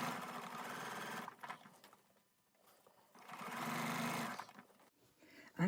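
Sewing machine running at a lengthened stitch to top stitch a round fabric rice bag about a quarter inch from the edge, with two close, steady bursts of whirring separated by a short pause.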